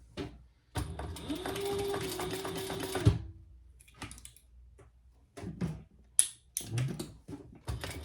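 A sewing machine stitches waxed canvas for a zippered pouch in a close, steady whirring run of a couple of seconds, then stops, followed by short bursts of stitching and handling clicks.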